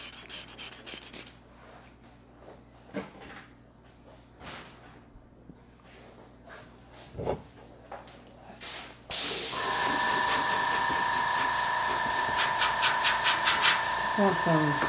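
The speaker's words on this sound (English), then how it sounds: "I will maneuver, move the inks with my airbrush" Scattered soft rubbing and knocks on a PVC board give way, about two thirds through, to a loud continuous hiss as an airbrush blows alcohol inks across it. The hiss is close and steady to the end.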